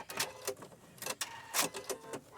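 A sewing machine back stitching through a junk journal cover, heard as a quick run of sharp mechanical stitching bursts with brief pauses between them, close and fairly quiet.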